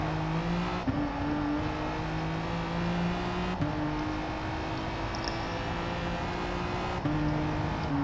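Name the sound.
race cars driving in a racing video game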